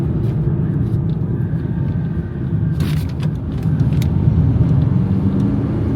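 A Ford Fiesta Mk2 cruises along the road, its engine and tyre rumble droning steadily from inside the cabin for the whole stretch, with a brief brighter swell of road noise midway and no talking.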